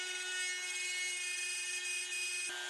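PROXXON FBS 240E precision drill/grinder running at high speed with a steady, thin whine, then briefly dipping near the end; close and fairly quiet, with no talk.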